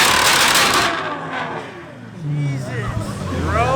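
A Ferrari 812 V12 engine revs loudly up close, then rises and falls in pitch through throttle blips. Excited voices react over and around it.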